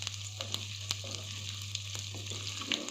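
Ginger and garlic lightly frying in a pan for spiced turnip curry, a soft, steady sizzle with occasional small pops and spoon taps, faint and close with no talking.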